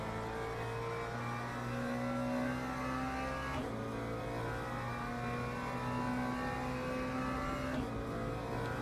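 McLaren race car engine in Le Mans Ultimate, racing on track: a steady high-revving engine tone climbs through gears, with two sharp shift drops, holding loud and constant.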